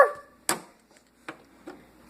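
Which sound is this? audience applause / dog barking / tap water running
dog barking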